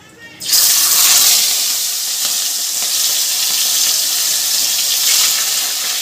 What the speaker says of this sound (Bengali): তেল ভালো মতন গরম হয়ে গেছে মাছগুলো আমি এবার হালকা করে ভেজে নেবো